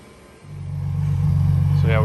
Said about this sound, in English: Electric mode LaFerrari.